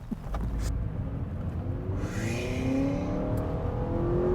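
A 2023 Honda Accord Hybrid cruising in sport mode gives a steady, subdued cabin hum with low road rumble and a faint rising whine, staying quiet and even throughout.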